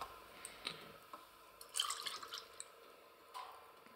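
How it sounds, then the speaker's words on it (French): Heating oil being poured back into the filter bowl of an oil-fired boiler gives faint, sparse liquid drips and small trickles, with a cluster of brighter splashes partway through, heard up close in a quiet space. "je vais remettre le fuel à l'intérieur"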